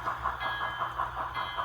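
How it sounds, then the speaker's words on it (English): A presidential train pulls into Union Station on the Fourth of July, its wheels giving a steady, rhythmic clickety-clack with a faint hiss above. The sound is moderately close and carries on with no talk. "here comes the presidential train on the 4th of July"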